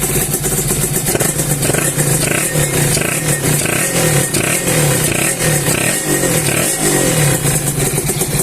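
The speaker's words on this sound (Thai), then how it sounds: "นี่นะอันนี้คือเครื่องติดแล้วเงียบกิบเลย" A Honda NSR motorcycle engine runs steadily up close, a loud continuous two-stroke buzz with rapid rhythmic clatter and slight fluctuations in pitch throughout.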